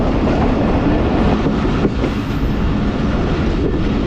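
Train running from Kot Adu toward Multan, a loud continuous rumble of wheels and carriage with faint rhythmic clatter and a brief high squeal partway through, no voices.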